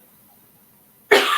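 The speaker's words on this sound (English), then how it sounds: "I got a cough" A single short cough close to the microphone breaks the quiet near the end.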